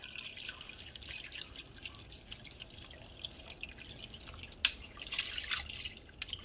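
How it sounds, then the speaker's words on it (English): A gallon of water poured into an Instant Pot for beef bone broth, heard as a light, close trickle with splashy drips and a few sharper spatters, fairly quiet and steady throughout. "next I'm going to add a gallon of water to the Instant Pot"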